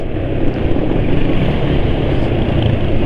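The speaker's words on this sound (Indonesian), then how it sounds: "motor yang depan itu suaranya lebih berisik dari motor penulis." Motorcycle engine noise on the road, heard from a rider wearing a helmet with the visor open, with the bike ahead running louder; a steady broadband rumble with wind roar continues throughout and no talking.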